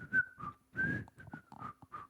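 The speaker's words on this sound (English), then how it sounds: "I can't whistle. My lips are dry." Someone attempts whistling with dry lips, producing a handful of short, breathy, wavering whistle notes in uneven bursts, quiet and close with airy hiss between tones.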